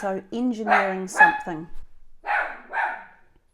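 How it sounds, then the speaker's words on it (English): A dog indoors gives a couple of short, close barks right after a person speaks, the barking briefly standing out before fading. "Sorry about the barking."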